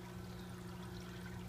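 Faint, steady trickle of water dripping from a calcium reactor's effluent line into a 55-gallon aquarium refugium, soft and continuous, with a low hum underneath.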